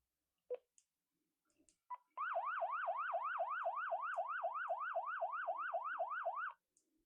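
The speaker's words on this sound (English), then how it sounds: "Right here is an alarm." The built-in alarm of an HA2 ham radio emits a rapid warbling siren-like tone, looping steadily for about four seconds after a few clicks from handling, close and clear.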